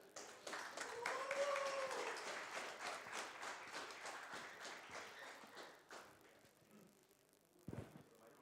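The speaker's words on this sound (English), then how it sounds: "So please give him a very warm applause." A room full of people at a tech meetup applauds, quiet and somewhat distant, the clapping tapering off into a few scattered claps and a thump.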